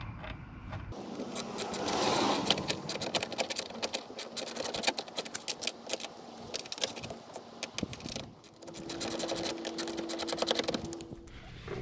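Small metal clicks, ratcheting and scraping come from tightening bolts while installing a power window motor in a 1999 Buick LeSabre, close up and irregular with no talking.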